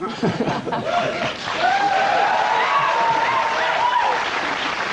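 A studio audience at a British comedy panel show gives a thin, muted round of applause mixed with scattered chuckles, while a voice talks over it in a sliding, sing-song tone.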